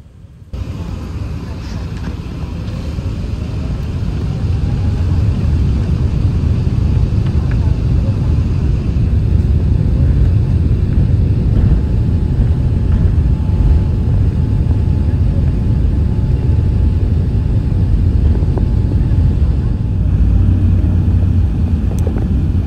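An Emirates Airbus A380 powers down the runway for takeoff, its engines building from a low start into a sustained heavy roar and rumble heard from inside the cabin, with faint background voices.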